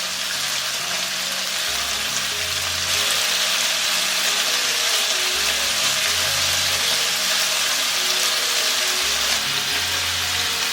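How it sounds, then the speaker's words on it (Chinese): Pork ribs pan-frying in a little oil over low heat, giving a steady, even sizzle with no talk, close and continuous throughout. "小火慢煎"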